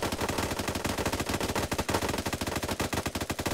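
Rapid automatic gunfire from a sci-fi modpack shooter game, a dense, continuous stream of sharp shots firing in quick succession, loud and close, with no talk over it.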